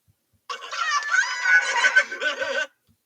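A pet chicken clucks close by in a continuous burst of rapid, chattering clucks lasting about two seconds, loud and clear with no talking over it.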